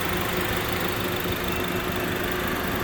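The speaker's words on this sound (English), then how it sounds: "turn on the engine completely and just make sure there's no leaks underneath" A ninth-generation Honda Civic engine idles right after an oil change, a steady, even mid-pitched hum with light vibration, close and unbroken, with no talking.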